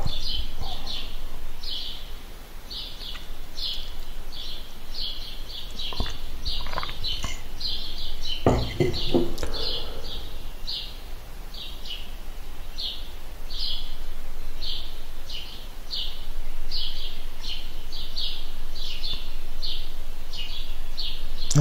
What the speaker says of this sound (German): Müsstet ihr auch die Vögel einigermaßen hören?